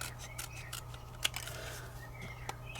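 Scissors cut across small pieces of paper card, soft crisp snips with one sharper clip in the middle, quiet and close over a low steady hum.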